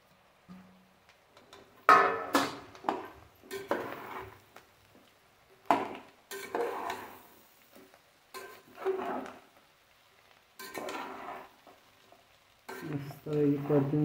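Jackfruit pieces stir-fried in a pan for a dry sabzi, sounding as repeated scraping strokes and soft clatters in bursts with quiet gaps between, up close.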